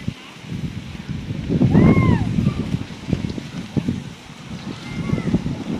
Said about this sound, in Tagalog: Wow, grabing hangin.